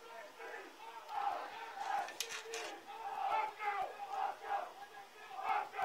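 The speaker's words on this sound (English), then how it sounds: "you can hear the fan base for Don Bosco" Fans of the Don Bosco side roar and shout together in a steady crowd din at a high school lacrosse game, with the chanting rising and falling across the span and individual yells poking through.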